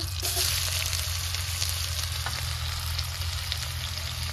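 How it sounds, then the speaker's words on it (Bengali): Chopped onion sizzles steadily as it fries in hot oil in a kadai while a banana-blossom dish is being cooked, giving a continuous close, even hiss with no talk. "তারপর দিচ্ছি পেঁয়াজ কুচো।"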